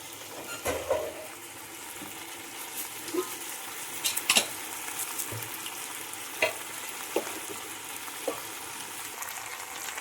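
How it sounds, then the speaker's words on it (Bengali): Pre-fried moong dal being stirred together with vegetables in a hot pan: a steady oily sizzle with scattered scraping knocks of the spatula, a few sharper clinks standing out. "সবজির সঙ্গে মুগ ডালগুলো মিশিয়ে নিচ্ছি।"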